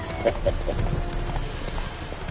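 Steady clip-clop of horse hooves at a walking pace in a video game, repeated rhythmic thuds over a low background hum.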